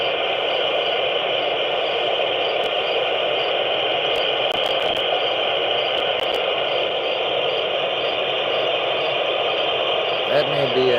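An amateur radio satellite downlink comes through a receiver as a constant band of hiss and static, steady and unbroken, with a few faint clicks and a short voice near the end.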